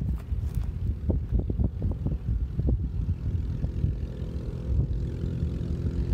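A Hummel Ultracruiser light propeller airplane takes off on its test flight, its engine droning steadily and fairly loud under wind noise, with no talk.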